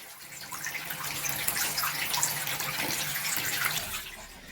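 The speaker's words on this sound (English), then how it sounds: "And I love this faucet. It's like a faucet you would have like in a water fountain." Water runs steadily from a drinking-fountain style faucet into a sink in a newly renovated bathroom, a close, even splashing stream without talk.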